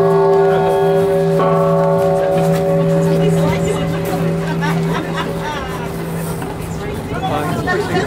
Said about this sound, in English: happy ringing of the peace bell at the United Nations